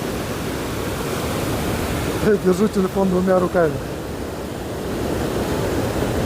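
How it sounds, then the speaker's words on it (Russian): The Iskander waterfall in Tajikistan roars as a loud, continuous broadband rush of falling water, seen from a metal grate footbridge; someone speaks briefly partway through, over the steady roar. "Вот он водопад Искандер. Во всей красе. Шумный такой."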